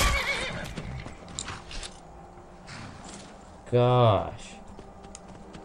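Within Skyrim, a horse lets out a loud, bright whinny partway through, with faint hoof clip-clops and game ambience around it and someone talking briefly early on.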